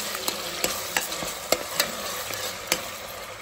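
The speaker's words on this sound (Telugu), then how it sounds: "టమాటాలు కొద్దిగా మగ్గాక అందులోకి జింజర్ గార్లిక్ పేస్ట్, అల్లం వెల్లుల్లి పేస్ట్ వేసుకొని కలుపుకుందాం" Ginger garlic paste being stirred into softened tomatoes in a pan for a goat head curry, with a steady low sizzle and sharp, irregular scrapes of the spoon against the pan, close up and with no talking.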